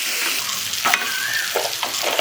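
Mango chutney with raisins, salt, turmeric and kadma sugar candy sizzles loudly in a pan as a spatula stirs it, giving repeated scraping strokes over a constant hiss.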